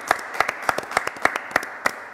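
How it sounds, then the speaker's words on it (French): A television studio audience claps in a regular rhythm, sharp, evenly spaced beats roughly every third of a second, fairly close and clear with little else underneath. "Ben Coco, s'il te plaît, on peut l'applaudir."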